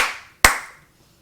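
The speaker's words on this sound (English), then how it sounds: "Clap, clap." One sharp, close hand clap stands out after the fading tail of an earlier one, with no voices.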